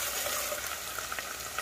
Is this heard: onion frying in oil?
yes